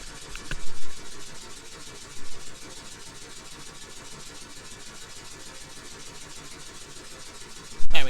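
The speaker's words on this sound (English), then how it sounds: "I really hope you can hear the steam engine going." A simulated steam engine from Steam Engine Simulator by AngeTheGreat runs with a steady mechanical hum and a broad hiss, a couple of brief louder bumps early on and a sharp burst at the very end.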